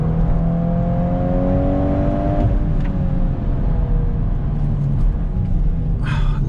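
A 2022 Volkswagen Golf R engine revving hard through quick gear shifts, a loud rising whine that drops with a shift around two and a half seconds, then a steady rumble, heard close from inside the car.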